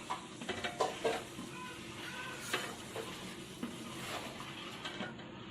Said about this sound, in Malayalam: അരി ചേർത്ത് കൊടുക്കുമ്പോൾ പാത്രത്തിന്റെ എല്ലാ ഭാഗങ്ങളിലേക്കും എത്താൻ വേണ്ടി ചെറുതായിട്ടൊന്ന് ഇളക്കി കൊടുക്കണം കേട്ടോ.